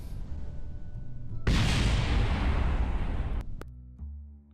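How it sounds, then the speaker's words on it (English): A ship crashes in Kerbal Space Program with a loud, sudden explosive roar that carries on as a dense, rumbling blast for about two seconds, then stops sharply and leaves low after-rumble. "with that satisfying explosion"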